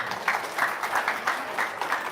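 A studio audience claps in applause during a lively talk-show exchange, a brief burst of mid-level clapping in uneven pulses, close and filling the moment without speech.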